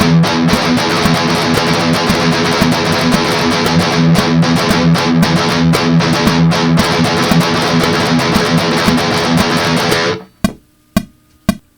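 Heavily distorted metal guitar chugs out steady 8th and 16th notes with quick faster bursts, loud and driving for about ten seconds, then a few isolated palm-muted hits ring out separately.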